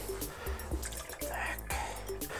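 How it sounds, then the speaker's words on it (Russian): Water drains off cooked squid in a home kitchen, with dripping and trickling, small splashes and a few sharp clattering knocks throughout. "Сливайте воду."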